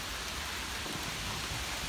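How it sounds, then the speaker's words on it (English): Steady heavy rain hisses on surfaces at a camp during a thunderstorm, a dense even wash of sound with no voices. "Look, there's a big thunderstorm."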